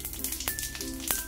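Bay leaves, dried chilli pieces and whole cumin sizzling in hot oil, a soft steady crackle with small pops, close and fairly quiet, with no talk.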